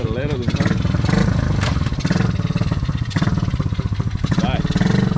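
A quad bike engine in a video game revs and accelerates hard, its buzzing motor note rising and falling steadily throughout while someone talks over it.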